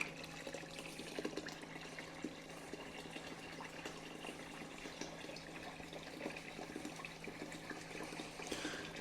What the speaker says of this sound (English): Let's get this material wet before we start feeding it into the cleanup sluice.